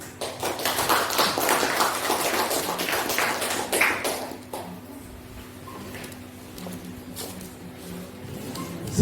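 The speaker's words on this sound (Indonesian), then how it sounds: "Sekali lagi dong tepuk tangan yang luar biasa." Audience applause during a school vision-and-mission presentation, a dense burst of clapping from a room of listeners that builds for several seconds, then tapers into scattered claps and quiet room sound.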